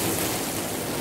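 Heavy rain pours down over Tilatang Kamang on a cold day, a dense, steady hiss with no breaks or voices.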